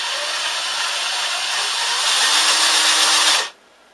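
A Lyman power adaptor for brass case trimming runs steadily with a loud, even whirring motor drone that holds for about three and a half seconds before cutting off abruptly.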